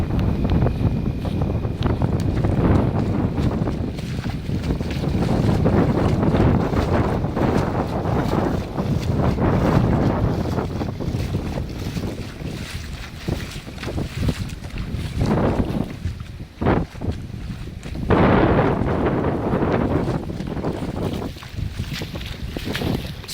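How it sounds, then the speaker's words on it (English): Strong wind from Hurricane Michael roars continuously into the microphone, buffeting with gusts and a constant low rumble, no voices. "the wind is definitely picking up"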